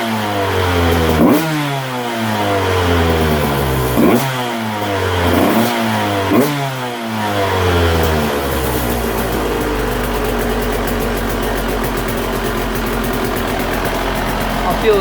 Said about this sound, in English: and then we'll blip the throttle a few times